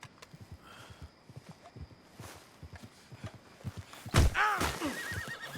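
A horse in Red Dead Redemption 2 moves with a string of soft clip-clop hoof steps, then lets out a loud, close whinny near the end.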